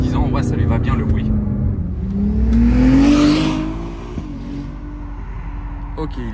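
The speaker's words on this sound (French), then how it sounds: "le V8 je trouve qu'il lui va super bien" The V8 engine of a 2024 Aston Martin Vantage drones loudly from inside the car and swells into a rising rev before settling back, while a person keeps talking over it.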